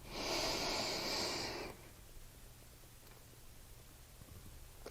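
A deep inhale is drawn during a postnatal yoga session: one loud, close breath lasting under two seconds, followed by quiet room tone with faint rustling.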